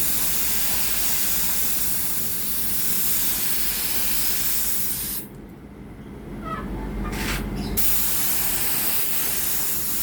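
Spray gun applying glossy paint onto a car body, a loud continuous hissing spray that cuts off briefly, leaving a quieter gap before spraying resumes.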